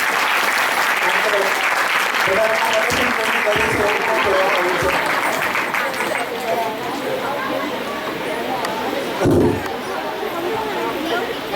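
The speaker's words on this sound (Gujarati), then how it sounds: "બધાના સાહસ માટે એકવાર તાળીઓ પાડીએ." Sustained audience applause fills a festival event hall, dense and continuous clapping with crowd chatter mixed in, holding steady before tapering slightly near the end.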